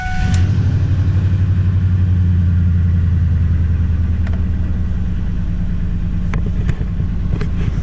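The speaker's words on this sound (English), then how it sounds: "who doesn't like a nice good old V8 cold start in the winter?" A Trans Am V8 starts from cold on a winter day and settles into a steady, loud, deep rumbling idle with a pulsing low throb, close by and alone, with a few faint clicks near the end.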